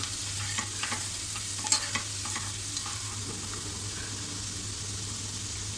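Masala sizzles steadily in a pan while being stirred, with a few soft scrapes of the spoon, before black-eyed beans go in for a Malvani-style bhaji; the frying is continuous and close.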